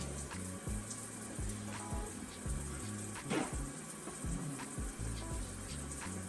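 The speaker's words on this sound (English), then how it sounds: "You hear the water." Tap water runs steadily while hands are washed, a continuous hiss of flowing water over a rhythmic low thumping in the background, with no voices.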